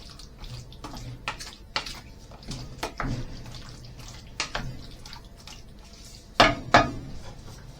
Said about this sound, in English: in goes our tin of chickpeas. Give those a little stir in, like so.